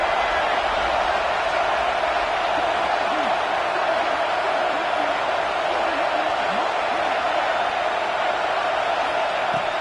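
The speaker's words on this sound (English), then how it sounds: "this big crowd doing everything possible to inspire this defense down here near the goal line" A big stadium crowd at an Alabama at Texas football game keeps up a dense, unbroken roar while the defense holds near the goal line, with faint voices underneath.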